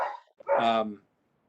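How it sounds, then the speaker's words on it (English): A pet dog barks once indoors during an online public meeting, a short, fairly loud harmonic bark after a brief yip, with the room otherwise quiet. "I apologize for the dog. I guess I got to let her in."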